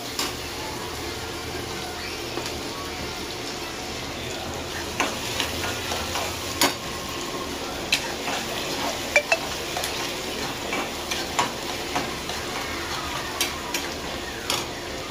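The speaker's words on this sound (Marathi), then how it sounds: "कांद्याला व्यवस्थित लाल होऊ द्या।" Onions fry in a pan for a Maharashtrian dry bombil masala, giving a steady close sizzle broken by repeated scraping and clinking of a stirring spoon against the pan, with no talking.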